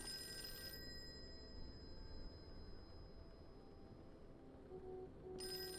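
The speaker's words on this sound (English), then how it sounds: "let's answer the phone" A telephone rings faintly in a detective video game, with short bright bell bursts at the start and end under a low steady ambient drone, no speech.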